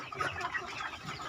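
Free-range village chickens cluck in a farmyard in the late afternoon, with a steady murmur of soft, overlapping calls at moderate distance and no voices.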